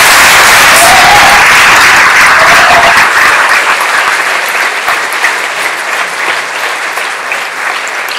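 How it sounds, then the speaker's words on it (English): Loud, dense applause from a political meeting crowd welcoming Owen Jones, sustained at first and then thinning gradually toward the end. "Give him a big round of applause."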